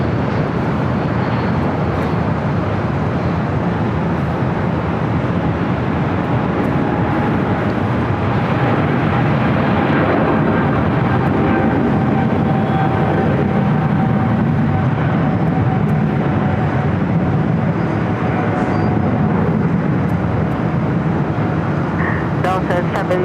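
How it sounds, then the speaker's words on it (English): A Boeing 777 cargo freighter jet taking off from runway 25 left at LAX, a steady, loud broadband roar that holds throughout with a faint whine on top, heard alone. "Green Air Cargo 777 freighter now taking off 25 left"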